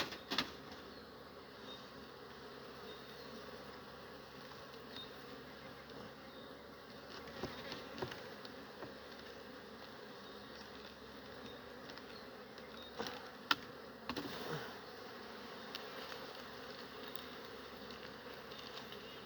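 Dense, steady buzzing of many honeybees swarming close by around an open hive during honey harvest, a continuous droning hum with occasional louder passes and faint clicks.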